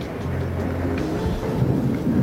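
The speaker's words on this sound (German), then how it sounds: "Momentan bist du mitten in einem Gewitter." Thunderstorm rumble rolls low and continuous, with rain texture and distant thunder, and no voices.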